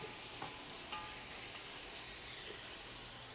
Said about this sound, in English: The onions and garlic are doing their thing.